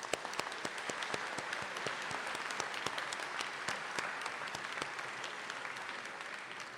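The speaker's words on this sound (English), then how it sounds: "Let's give that one more round of applause." Audience applause fills an alumni convocation hall at DePauw University, a steady, dense round of clapping from a large crowd that holds at a constant level for the whole stretch without any talk over it.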